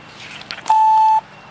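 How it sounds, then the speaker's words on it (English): A single steady electronic beep on a phone during a call sounds for about half a second, clean and fairly loud against a quiet line, preceded by faint clicks. "My phone went beep, and I thought it was somebody trying to get me."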